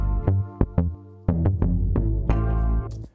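Chopped, low-pass filtered sample loop in a beat, muffled chords cut into short stabs with gaps and restarts, played loud and alone in a choppy rhythm.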